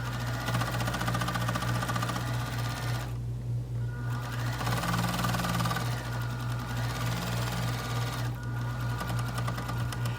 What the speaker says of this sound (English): We'll be picking up the other side of the Velcro and sewing that down.